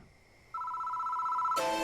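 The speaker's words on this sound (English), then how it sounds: "The phone starts ringing out of nowhere." A telephone in the horror game Death Mark starts to ring: a steady electronic tone switches on and holds, then a harsher bell-like ring bursts in near the end, clear and alone.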